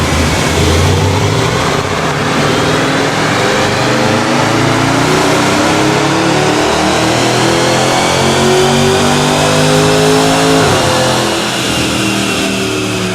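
A supercharged V8 Land Rover Defender engine runs on a dyno, its note climbing steadily in a long loud sweep. Near the end it drops off sharply, then carries on at a roaring, close level.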